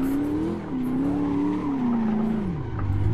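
A 1007hp VDC F22 Eurofighter car slides in a racing video game, with a continuous close engine and tire whine that wavers and drops in pitch as it skids.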